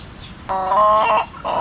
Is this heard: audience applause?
no